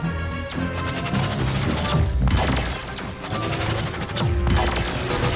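Rapid friendly-fire gunshots and blasts in the video game Metroid Prime Federation Force, dense bursts of crackling shots with heavier crashes recurring every second or so, loud and close.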